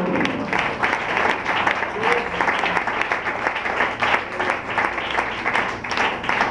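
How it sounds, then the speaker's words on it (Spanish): Sustained applause from a church congregation, dense steady clapping filling the whole stretch at an even, fairly loud level. "Un aplauso al Señor"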